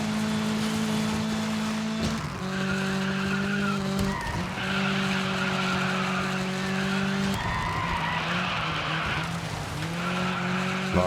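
Race cars in the Dirt 5 racing game skid and slide, tires squealing over a steady high engine drone, with gear changes and shifting revs marking each slide.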